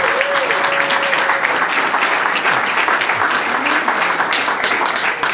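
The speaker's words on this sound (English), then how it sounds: "Let's have a big round of applause for the sponsors and volunteers who made tonight possible." An audience at a mayor's evening event applauds the sponsors and volunteers, a dense, loud burst of clapping that holds steady throughout, with a faint tonal whine in the background.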